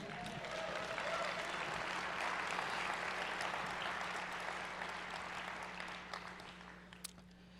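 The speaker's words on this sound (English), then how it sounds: "let's clap it up for him" A crowd at a SXSW keynote applauds in a broad, dense wash of clapping that holds steady, then thins and tapers off toward the end, heard from a distance.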